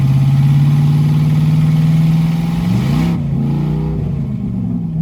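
A race car engine pulls loud and steady in second gear, a strong low drone that wavers and dips near the end as the car drops toward neutral, with no talking.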